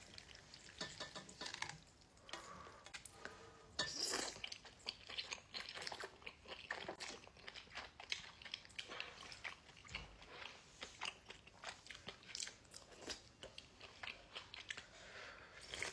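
Close crunchy chewing of udon topped with tempura flakes, soft irregular bites and crunches with mouth noises, fairly faint and without talk.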